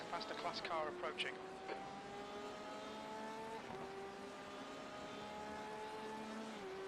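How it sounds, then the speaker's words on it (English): Engine whine of a faster class race car approaching in the iRacing sim at Le Mans, several tonal engine lines sweeping and shifting as cars close in, steady at moderate level under a voice talking at the start. "There's a faster class car approaching."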